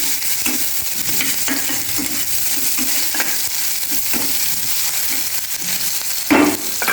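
Steady sizzling of onions frying in oil, with periodic scraping and stirring clinks from a utensil against the pan; no talking.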